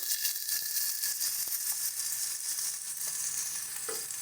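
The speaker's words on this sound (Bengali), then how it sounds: "গ্যাসের স্টিমটা ছোট করে দিয়ে দেব বাটা মশলা, কাঁচা লঙ্কা বাটা, সাথে দিয়ে দেব হলুদ গুঁড়ো" Ground spice paste with green chili paste and turmeric powder frying in oil over a lowered gas flame, giving an even, continuous sizzle close up with faint stirring touches and no talk.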